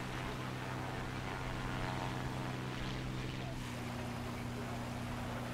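Propeller engine of a P-51D-20 NA fighter in the flight game War Thunder, a steady droning hum with a struggling, damaged motor, continuous and fairly faint in the background.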